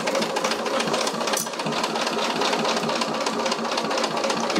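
A sewing machine backstitches through two interfaced fabric pieces, running in a close, steady mechanical whir with rapid rhythmic needle ticks and a brief dip in pace partway through.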